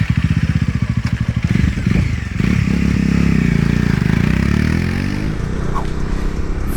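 A Bajaj Dominar 400 crossover motorcycle pulls away on a test track, its engine thumping in rapid pulses then rising into a loud, sustained revving drone close by.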